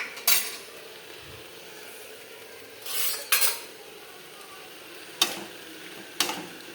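Spoon scrapes and clinks against a pan while tomato, onion and green chili with a pinch of salt are stirred, coming as a few distinct close stirs spaced by quiet pauses, with no talk.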